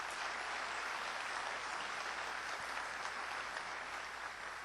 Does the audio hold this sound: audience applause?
yes